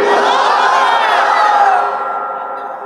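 A large gathering at a religious sermon shouts the takbir response in unison, a loud, sustained collective chant up close that trails off and fades toward the end.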